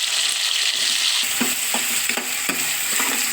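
Onion dropped into hot oil already holding mustard seeds and chana dal for bitter gourd palya, a loud continuous sizzle broken by a series of scraping stirs, close and with no voices.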